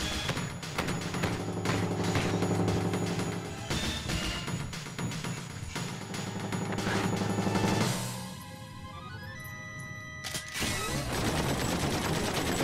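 Machine gun fire in the Final Fantasy VIII video game during an escape from a fast spider tank, rapid continuous bursts over loud game music and mechanical clanking, with a crash and a shift in the music near the end.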